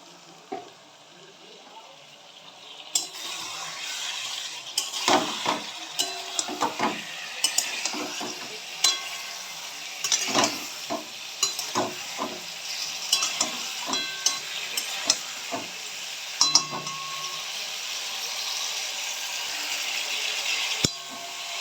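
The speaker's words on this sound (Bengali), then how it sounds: "এবার আমি এতে ডিম আর আলুটা দিয়ে আর খানিকক্ষণ একটু কষিয়ে নেব।" Boiled eggs and potatoes sizzle as they fry in a spiced masala for Bengali egg kosha, with a steady hiss rising after a few seconds and frequent close spatula scrapes and clinks against the pan.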